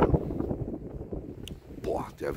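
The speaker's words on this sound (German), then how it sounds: "Der Wind ist schon wieder so heftig." Strong wind buffets the microphone outdoors in an old miners' housing estate, a loud rumbling low-end roar that surges and fades throughout, with a voice talking over it.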